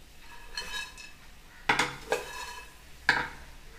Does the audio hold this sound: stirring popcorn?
yes